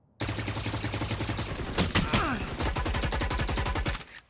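Loud, close automatic gunfire rattles in rapid bursts during an esports video game match at the final of the KOR-FIN Esports Festival 2021. Dense shots run almost nonstop, with a brief shift of weapons midway.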